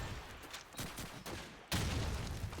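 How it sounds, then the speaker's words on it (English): Sustained rattling rifle and machine-gun fire in a Call of Duty 2 tournament match, with dense overlapping shots that briefly dip and then return louder, with no talk. "There's an American going down, and Oisera getting a grenade kill."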